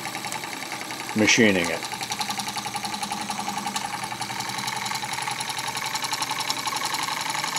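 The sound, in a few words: homemade Stirling engine running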